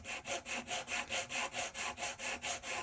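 150-grit sandpaper rubs over the wooden hull of a Model Shipways dory kit in quick, even back-and-forth strokes, about eleven rasping passes close to the microphone, with no talking.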